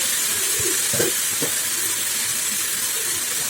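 Masala with chili powder and salt sautés in a pan for a Tamil kumara parai fish dish. It gives a steady, close sizzling hiss with a few soft stirring scrapes and no speech.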